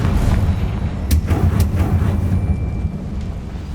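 Confringo blasting spell striking a barricade in Hogwarts Legacy: a loud, dense rumbling blast with crackling bursts over a sustained roaring low-end wash, no speech.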